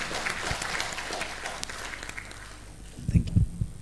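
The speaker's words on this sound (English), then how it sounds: "big round of applause to Rupesh" Applause from a conference audience at a mangrove conclave, a steady spread of clapping that thins out toward the end, followed by a few low thumps and rustles.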